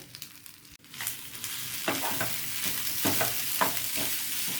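Gooseberry rice being stirred in a frying pan, with a steady close sizzle and a series of scraping spatula strokes against the pan at an irregular pace.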